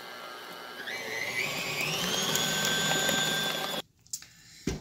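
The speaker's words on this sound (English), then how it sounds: "So we're going to turn this on and start whipping." Buttercream frosting is whipped by an electric mixer, a loud, close motor whine whose pitch climbs as it gets up to speed and then holds steady before cutting off abruptly, followed by a couple of knocks.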